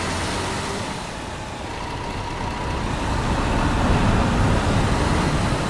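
Road traffic rumbles past in the bus-driving game Fernbus Simulator on the Usedom and Ahlbeck route: a continuous, fairly loud wash of engine and tyre noise from cars and lorries that swells slightly toward the end.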